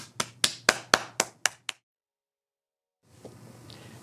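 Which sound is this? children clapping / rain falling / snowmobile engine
children clapping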